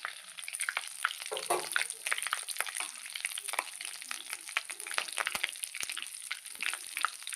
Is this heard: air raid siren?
no